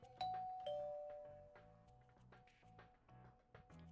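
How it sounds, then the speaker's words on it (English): Two doorbell chimes ring out in a video game, each a clear ding-dong tone with a long ringing decay, the second following about half a second after the first, over a steady rhythmic game soundtrack. "I checked that we were ready and then rang the doorbell, and Sugawara came out when she saw that it"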